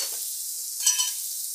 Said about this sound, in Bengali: পেঁয়াজ, কাঁচা লঙ্কা, রসুন ভাজা ভাজা হয়ে গেছে। এবার আমি দিয়ে দিচ্ছি একটু রঙের জন্য কাশ্মীরি লঙ্কার গুঁড়ো